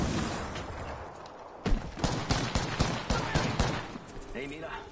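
Gunfire in an Apex Legends match, a cluster of sharp shots and bursts in the second half following quieter game ambience, with voices heard between.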